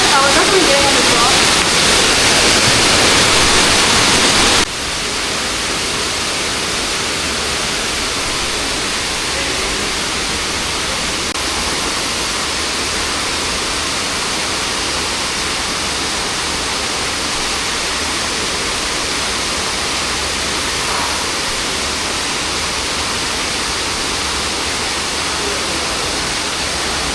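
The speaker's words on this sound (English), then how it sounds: "Oh, that's just the fall." Waterfall inside Lost Creek Cave in Scott's Gulf: a steady, broad roaring rush of falling water, louder for the first few seconds, then constant and close for the rest.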